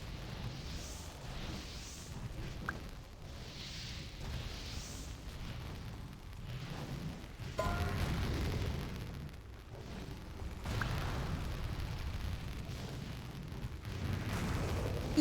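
Barrage ability explosions in a video game, a continuous muffled rumble of blasts and bursts that swells at intervals under a dense layer of game noise.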